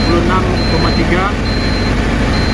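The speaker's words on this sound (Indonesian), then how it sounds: "Ini nampaknya ada penurunan putaran mesin atau RPM mesin." An Isuzu 42 kVA silent generator engine runs under load after rat damage, a steady low droning hum with a faint whine, close and continuous.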